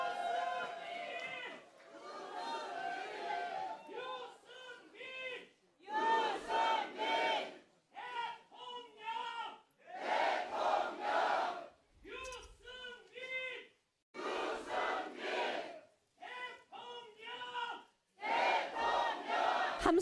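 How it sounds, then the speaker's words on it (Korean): A crowd at a Korean presidential campaign rally shouts and cheers in repeated loud bursts separated by brief pauses. The chanting swells and drops in waves and stays close and strong throughout. "함성이 작습니다. 좀 크게 해주십시오."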